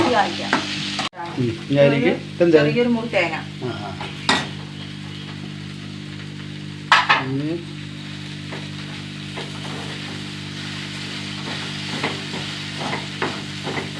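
A utensil stirs curry frying in a pan, giving a steady sizzle under repeated scraping and clinking strokes against the metal, close and continuous throughout.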